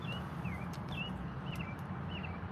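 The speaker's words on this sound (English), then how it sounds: "You get birds in stereo." Small birds sing outdoors in short, high chirping phrases repeated a few times, soft and somewhat distant over a steady background hiss.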